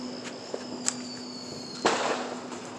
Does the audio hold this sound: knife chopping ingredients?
no